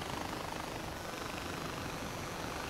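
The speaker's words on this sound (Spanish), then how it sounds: "Un helicóptero." A helicopter in the video game Far Cry 4 gives a steady, continuous whirring drone at moderate loudness, with no voices over it.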